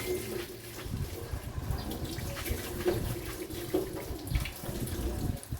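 Water pours steadily through a colander in a kitchen sink as cooked pasta is drained, a continuous splashing gush that stays moderately loud throughout.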